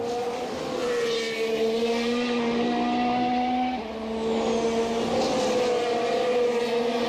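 Formula 1 cars race at the 2019 Italian Grand Prix at Monza, engines screaming in steady high-pitched tones that rise and fall as cars pass, with a brief dip and shift midway, and crowd and track ambience beneath.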